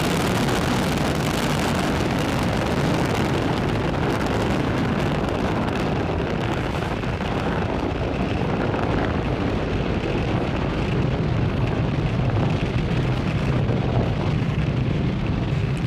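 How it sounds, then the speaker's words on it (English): A SpaceX Falcon 9 rocket lifts off from Pad 40 at Cape Canaveral Space Force Station, a continuous, loud, crackling roar rumbling evenly throughout with buffeting wind noise. "Falcon 9 has successfully lifted off from Pad 40 at Cape Canaveral Space Force Station"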